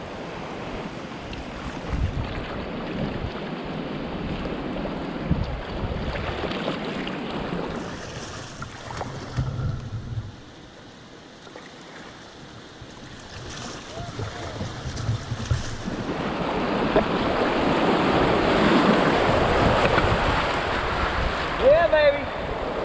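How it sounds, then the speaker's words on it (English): Rushing whitewater from a rapid on the Cape Fear River during a kayak trip, a broad steady roar with wind buffeting the microphone, swelling louder toward the end. "We're just at this rapid here."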